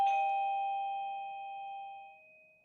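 A single electronic doorbell chime rings out clearly in a quiet room, a bright tone that strikes once and slowly fades over a couple of seconds.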